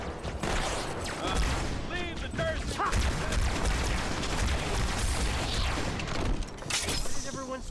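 Heavy, continuous gunfire and explosions in the video game Halo 2: Anniversary, a dense, loud wash of weapon fire and impacts throughout, with voices speaking over the battle.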